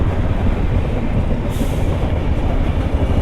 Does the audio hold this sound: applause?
no